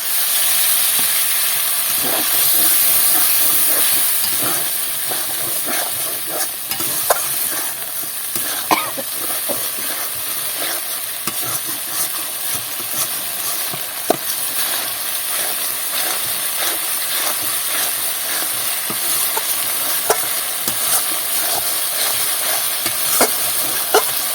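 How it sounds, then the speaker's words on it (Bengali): Steady, loud sizzling of a thick spice paste frying in a pan for pangas fish curry, with frequent scraping clicks as it is stirred throughout. "মশলাটা কষিয়ে নেওয়া হয়ে গেছে মশলার গা দিয়ে তেল ছেড়ে দিচ্ছে"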